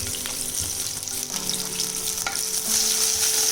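Mustard seeds, green chili and curry leaves sizzling in hot oil, a loud continuous crackle with scattered pops and stirring clatters, swelling toward the end, no speech.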